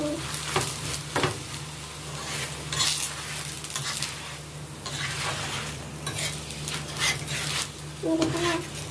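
A radish paratha fries steadily on a pan with a sizzle, broken by several sharp scraping and clinking utensil touches.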